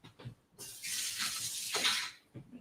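Water runs from a kitchen tap as hands are washed, a steady hissing stream for about a second and a half between soft background sounds.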